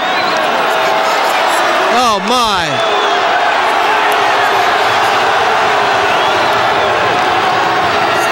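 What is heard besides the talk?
crowd cheering at a wrestling championship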